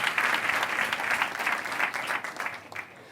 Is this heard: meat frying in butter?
no